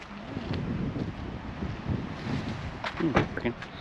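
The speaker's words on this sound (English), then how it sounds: "It's pretty windy out here today" Gusty wind buffets the microphone with a low rumbling roar at a seashore, and a voice speaks briefly near the end.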